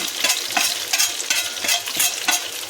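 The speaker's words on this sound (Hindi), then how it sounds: "अब इसको चला लेंगे" Potatoes with salt and turmeric are stirred in a pan, with rhythmic scraping strokes of a spoon over a steady sizzle, loud and close, and no one speaking.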